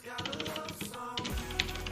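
Rapid clattering keystrokes on a computer keyboard, close and dense, typed in quick bursts with a brief pause midway and faint background noise.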